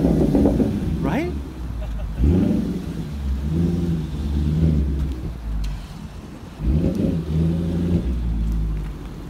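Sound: Audi S5 engine revving, resonator opened up

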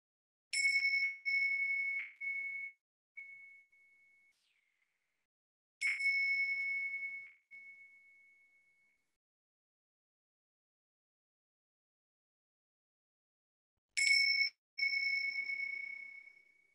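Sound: meditation bells ringing

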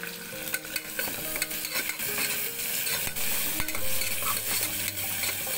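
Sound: sautéing onions with curry leaves

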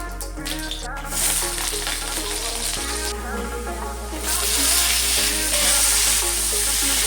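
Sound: fish frying in a pan

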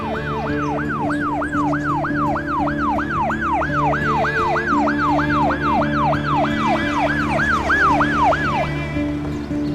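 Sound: ambulance siren

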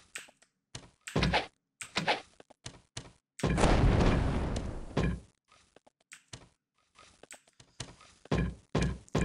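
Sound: enemies shooting in video game Might and Magic 8

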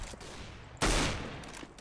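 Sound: gunshots in video game CS:GO

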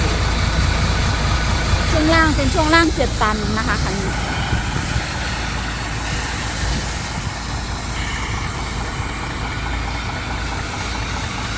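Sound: Hino JO8E engine truck idling, Mega Cab

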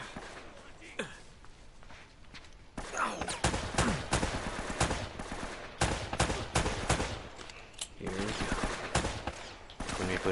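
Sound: machine gun fire in video game Uncharted: Drake's Fortune

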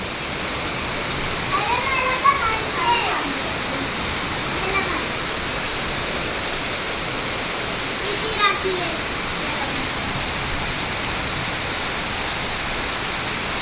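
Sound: waterfall flowing near a Ganpati temple in the rain

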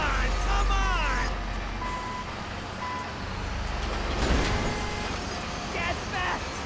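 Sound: bulldozer reversing beeps in video game GTA 5

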